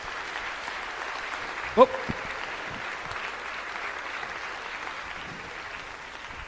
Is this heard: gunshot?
no